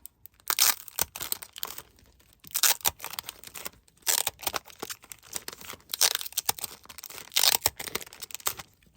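Plastic vinyl wrapping is torn open and crinkled by hand in repeated short bursts of crackling and ripping, close and fairly quiet, with gaps between the pulls and no talking.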